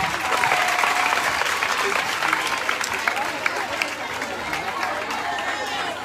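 A school audience applauds for a male student called to the front during a first lady's school visit, with steady, dense clapping and crowd noise throughout, loud and close.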